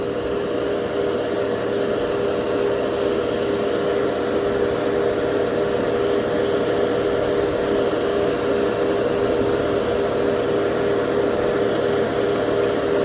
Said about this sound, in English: It practically sprays itself, you know?